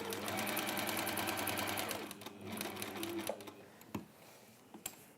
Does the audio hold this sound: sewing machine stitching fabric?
yes